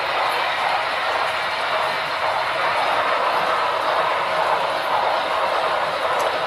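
A military train passes on a railroad layout, giving a steady, loud rolling rumble that holds at an even level for several seconds with no talk.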